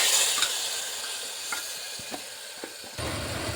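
Tomatoes with ginger and green chilli fried in oil in a pan, a steady close hiss of sizzling broken by a few light scrapes as the mixture is stirred, with no talk.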